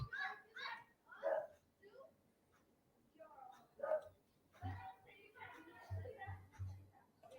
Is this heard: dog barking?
yes